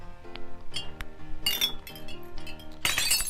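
Glass smashing in the video game I Am Bread, with bright clinks and two crashing shatters over a background of game music.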